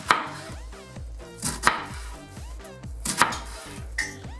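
Knife slicing through cabbage on a cutting board while preparing a fish tofu sandwich, a run of close, crisp crunchy cuts at a steady rhythm with a few louder chops, no talking.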